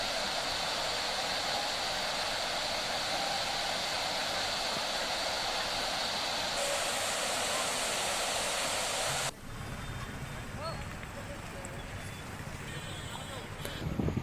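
Heavy rain has swollen a waterfall at Jharneshwar Mahadev in Manasa, Neemuch, and it gives a loud, steady, broadband roar of rushing water that shifts in tone about two-thirds through but never stops.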